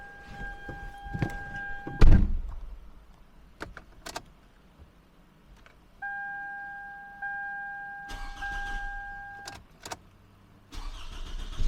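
A Toyota Camry is started after shock and front brake work: keys jangle, a door thunks, the engine cranks and catches, then idles quietly between dinging warning chimes and further clunks.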